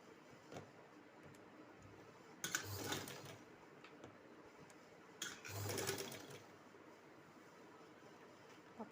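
A sewing machine stitches the fitting seam of a kurti in two short bursts of quiet mechanical whirring against a faint background hum, with light ticking in between.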